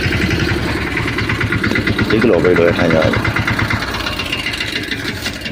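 A tractor engine idles loudly and steadily nearby, its low rumble continuous throughout while someone talks over it.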